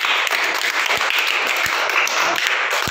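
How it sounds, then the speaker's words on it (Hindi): Children at a kids' train-song party clap hard, steady and close, a dense patter of hand claps filling the space without pause. "अब ताली बजाओ तो कस के।"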